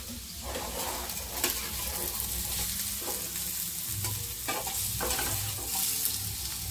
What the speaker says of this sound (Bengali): এই যে দেখতে পাচ্ছ, হয়ে যাচ্ছে অল্পটা ভাজা